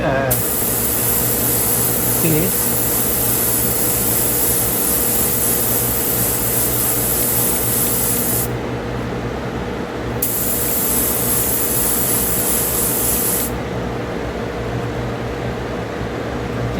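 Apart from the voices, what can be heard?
airbrush spraying paint on 3D printed figure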